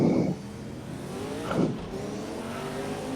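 A Nissan race car engine in a racing video game revs hard, a steady high-pitched drone with a couple of louder swells as it rises and falls through the gears.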